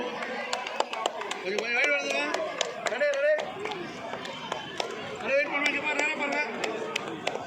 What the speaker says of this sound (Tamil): ஹண்ட்ரட் பாராட்டுக்கள் கைத்தட்டல்களோடு அவர்களை நாம் வரவேற்போம்